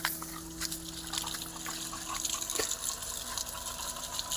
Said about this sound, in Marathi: मोटर चालू झाली माऊली तर ते आवाज असा येते